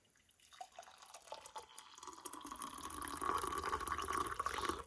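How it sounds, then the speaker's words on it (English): Hot water poured into a cup of instant coffee from a 24-hour mountain MRE breakfast ration, a steady trickling fill that builds slightly in level over several seconds, close to the mic and with no talk. "A little bit more hot water."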